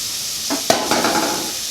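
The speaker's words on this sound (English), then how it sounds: "Butter smells good. We have our onions. We're just going to let these sweat." Onions sweating in butter in a pot give a soft, steady sizzle throughout, with a couple of brief spoon stirs and scrapes against the pot partway through; no talking.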